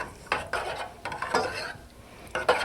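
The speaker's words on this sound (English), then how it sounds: "And we'll start stirring that up." All-beef frankfurters stirred in a pot with currant jelly, a spoon scraping and swishing in several separate strokes with soft clinks against the pot, no talk.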